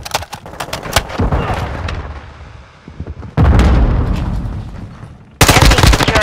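Loud, close gunfire in the video game Call of Duty: Modern Warfare II, with rapid automatic bursts, heavy booming shots and blasts crowding a dense battle mix.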